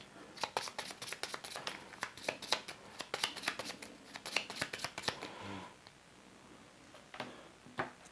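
Board game cards for This War of Mine being shuffled back into a deck, a rapid run of crisp riffling snaps close up for several seconds, then a pause and a few final taps.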